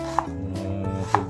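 A knife chops white onion for kinilaw na balantyong, two crisp, close board strikes spaced about a second apart over a low steady hum, with no voices.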